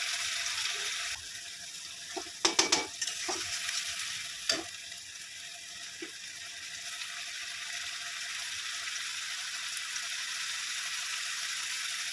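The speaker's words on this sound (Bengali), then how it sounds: "এটা আমি এখন ভেজে নেবো" Cumin, ginger, onion, garlic, green chili, tomato and a little cardamom fry in hot oil for a spicy eggplant dish, making a soft, even sizzle throughout, with a few quick clinks of stirring early on.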